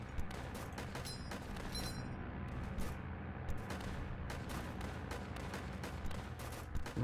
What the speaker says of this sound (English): the mortars are actually doing pretty nice